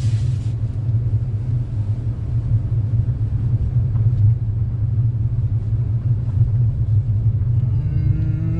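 Alfa Romeo Giulia Quadrifoglio crawling round in a tight circle on full steering lock, giving a steady low engine rumble throughout with a faint rising tone near the end.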